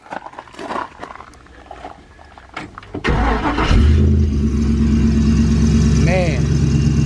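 A 1955 custom DeSoto sedan's engine cranks and catches after some brief handling noises, then settles into a loud, steady idle close by.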